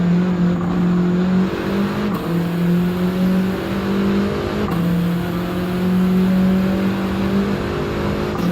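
A Volkswagen Golf GTI engine in Gran Turismo 7 revs hard and steadily on a race track, its drone climbing in pitch and dropping back at two quick gear changes, loud and close with no talking.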